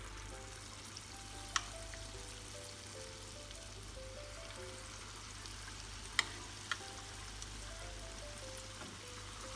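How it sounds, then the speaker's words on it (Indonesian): Cucumber fritter batter (bakwan timun) frying in hot oil, a steady close sizzle and crackle throughout with a few sharp pops, no voices. "Digoreng sampai adonannya habis."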